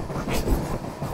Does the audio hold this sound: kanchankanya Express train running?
yes